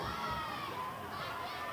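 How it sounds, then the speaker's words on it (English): Crowd at a cheerleading competition, a level 6 worlds teams show at CHEERSPORT Nationals, roaring and cheering steadily with high shouting voices, distant and continuous throughout. "you're going to hear the roar of the crowd"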